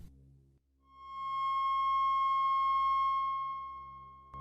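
A pure sine tone at 1080 Hz, a C sharp, fades in smoothly, holds steady and loud for a few seconds, then tapers slightly, alone over a faint low hum.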